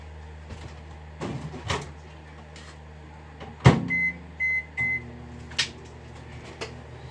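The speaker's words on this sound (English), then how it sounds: "put it in the microwave for another 10 seconds" A low hum drones under faint clatter and clicks, then a door thud and three short electronic beeps ring out in a row.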